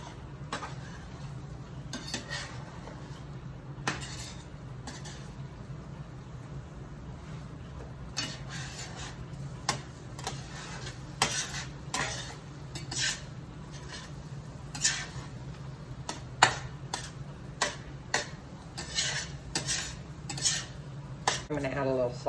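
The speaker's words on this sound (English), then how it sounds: "And then I'm going to use a kind of a figure 8 motion. Just going to kind of stir them." Eggs stirred in a pan with a figure-8 motion, giving a steady run of light metallic clinks and scrapes of a utensil against the pan over a low background hum, with no talking.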